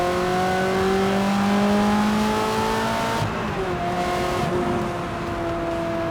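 A Ferrari 360 with a gated manual gearbox revs hard on the road, its engine note climbing steadily, then dropping sharply at a shift before building again, loud and close throughout.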